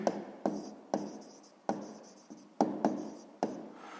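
Quick pen strokes on paper as figures are written out for a sixth-grade math problem, a series of about nine crisp scratching taps in an uneven rhythm, close and without speech.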